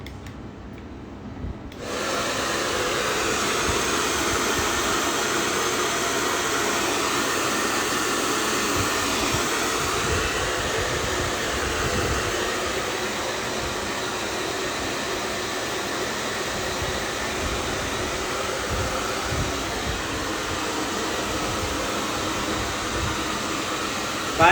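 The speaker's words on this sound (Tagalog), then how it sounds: "Blower." Hair blower drying hairspray on a wig cap: it switches on abruptly and then roars steadily and loudly for over twenty seconds, a constant whooshing airflow with slight rubbing noises underneath, close and with no talk.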